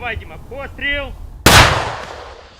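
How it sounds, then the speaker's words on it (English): A single loud gunshot rings out on the front line of Ukraine's southern counter-offensive near Orikhiv, with a sharp crack and a long echoing decay right after someone speaks. "Yet, they have to shoot their way forwards, round by round."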